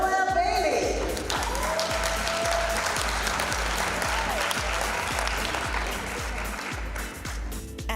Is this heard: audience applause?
yes